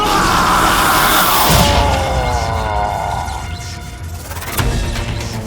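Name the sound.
people screaming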